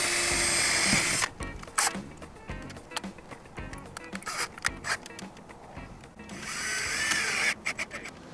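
A power drill drives screws while window screens are fitted to a school bus conversion, giving short bursts of whirring that stop and start between quieter handling noises and clicks.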